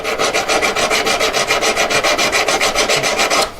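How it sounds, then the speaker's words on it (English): Jeweller's file rasping on metal, a steady rapid series of even back-and-forth strokes, close and loud, with no talking. "keep filing, putting weight on the back of the piece as well."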